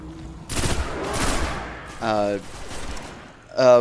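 Pulse rifle fire in the video game Destiny: loud, rapid bursts of shots up close, with a voice talking in between and over the end.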